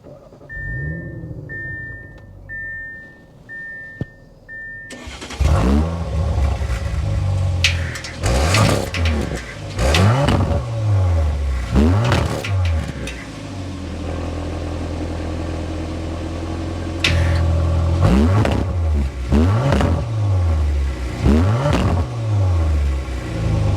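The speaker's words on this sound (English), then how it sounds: "start it up so you can hear that exhaust note" An Audi RS5 Sportback's twin-turbo V6 starts after a brief electronic chime, then revs repeatedly in loud bursts, its exhaust rumbling between sharp climbs and drops.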